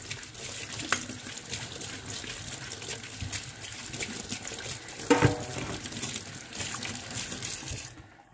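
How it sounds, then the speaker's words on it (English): Paint brush rinsed under a running tap to wash out dish soap, a steady soft rush and trickle of water with a brief louder splash midway, close and with no talk. "And then I would rinse this brush. Make sure I get all my dish soap out."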